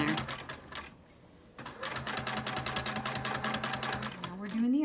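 A sewing machine stitches a three-layer fabric tie face mask, backstitching to reinforce the top: a fast, even, close mechanical patter that stops briefly, then resumes, with someone speaking now and then.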